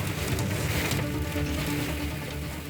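Heavy rain and hail pelting down during a violent thunderstorm over traffic on a road, a dense, continuous loud hiss and patter with no pauses.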